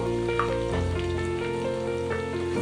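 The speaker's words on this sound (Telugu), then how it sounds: "ఆనియన్స్ ఫాస్ట్గానే వేగిపోతాయండి ఆల్రెడీ బాండీ హీట్ హీట్ ఎక్కువ ఉంది కదా" Chopped onions and slit green chillies fry fast in a very hot kadai for soya meal maker dum biryani, giving a steady close sizzle with faint stirring scrapes throughout, no voices.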